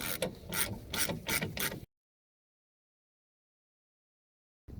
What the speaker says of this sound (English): you go on the other side, remove the bolt again.